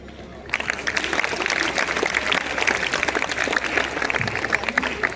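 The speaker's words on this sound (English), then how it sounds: "A huge round of applause for Class 10D for concluding today's performance so beautifully" A school audience breaks into loud, dense applause after a Grade 10 skit of Julius Caesar, a sustained roar of many hands clapping at once that starts abruptly and carries steadily to the end.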